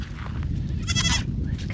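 A goat on a homestead pasture bleats once in a wavering drawn-out cry, fairly distant over a steady outdoor rumble of wind or handling noise.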